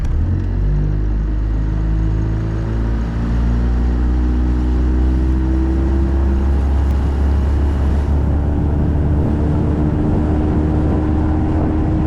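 A boat with an outboard motor on a test run with transom wedges fitted, the engine rumbling loud and close as it steadily climbs in pitch while accelerating, with water noise underneath.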